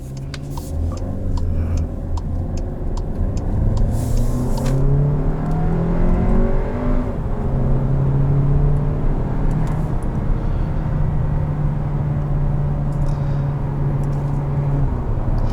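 A 2020 Volkswagen Arteon R-Line with 270 horsepower accelerating, its engine note rising steadily through the gears from inside the cabin, a loud continuous drone climbing in pitch, dipping at a shift and then holding a high tone.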